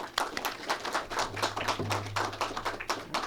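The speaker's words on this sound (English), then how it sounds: "let's give a round of applause to each presenter, starting with Jackie Kennedy" Clapping from a small audience greeting presenters at an event on early First Ladies, with loose overlapping claps in a brisk rhythm and a faint low hum beneath.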